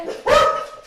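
A chihuahua gives a single sharp, high-pitched bark with a rising yelp, close and loud, with no voices over it.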